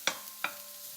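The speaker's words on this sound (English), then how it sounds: "And give them a good stir." Onions sizzle in olive oil in a pan for mushroom risotto, a steady hiss broken by two sharp scraping stirs, close and clear with no talking.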